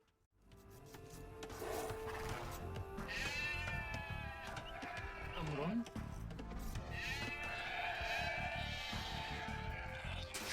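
Sheep bleat in an Age of Empires match, a wavering animal call rising over busy game sounds and music, with a voice talking over the top throughout.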